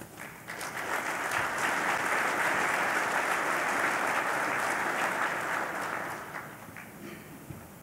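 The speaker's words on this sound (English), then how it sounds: "give these people the applause that they need, they deserve" A crowd at an annual grand awards ceremony applauds warmly, swelling into an even wash of clapping that holds for several seconds and then tapers off. The sound is moderately distant and hall-like.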